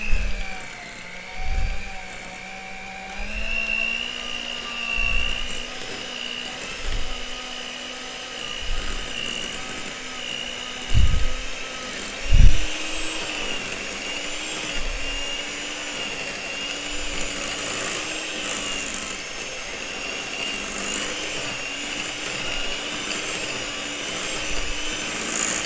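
Electric hand mixer whipping olive oil compound butter in a bowl, a continuous high motor whine with rhythmic low knocks as the beaters hit the bowl, fairly close and steady.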